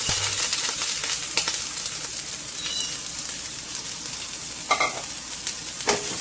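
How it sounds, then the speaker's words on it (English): Carrots and broccoli sizzling in a very hot pan with leftover beef oil, a loud continuous close frying hiss with a few scrapes and clinks from stirring. "I'm going to add the carrots and the broccoli."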